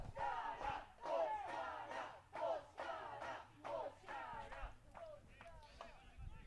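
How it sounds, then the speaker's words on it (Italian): Supporters of the Tuscany side cheer and chant from the stands at an under-15 youth football match between Sardinia and Tuscany. Rhythmic bursts of shouting voices repeat in waves, fairly distant and moderately loud. "Fanno sentire i tifosi della Toscana in tribuna"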